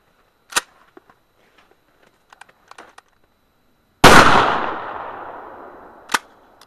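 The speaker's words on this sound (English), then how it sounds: "This is Remington, high brass," A single loud shotgun blast firing a Remington high brass rifled slug, sharp and close with a long rumbling decay, preceded by faint handling clicks and followed by one sharp metallic knock.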